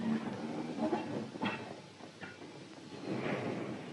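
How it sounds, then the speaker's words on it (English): Railway wagons roll through automatic points in a 1950s British shunting yard, giving irregular clanks, clicks and metallic knocks over a steady rolling rumble, moderately close. "A wagon every few seconds, and the automatic points sorting them out one by one."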